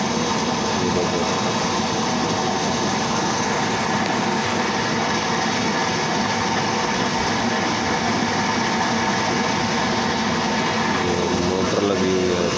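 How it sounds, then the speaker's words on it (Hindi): Electric motor driving a plastic scrap crushing and washing machine as the material churns inside, a steady dense mechanical whir and rattle running throughout, with some voice mixed in. "मोटर लगी हुई है,"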